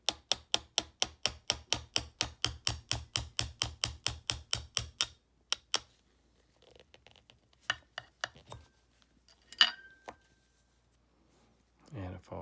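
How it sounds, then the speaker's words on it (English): Hammer striking a punch to drive a pin out of the bolt of an HK SP5, a rapid steady series of sharp metallic taps for several seconds, then scattered handling knocks and rattles. "let's drive this pin out using our hammer and punch"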